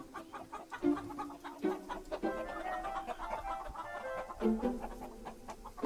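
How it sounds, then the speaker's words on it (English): Chickens clucking and squawking in short bursts, fairly close, over a steady low rumble, as they are unloaded from a train. "So the chickens were unloaded"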